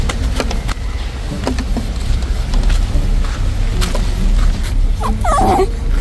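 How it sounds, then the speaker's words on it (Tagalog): Dogs whine and yip close by on a pigeon farm on a very hot day, with short excited barks and whimpers repeating over a loud, steady outdoor noise. "Wini-welcome tayo ng mga aso."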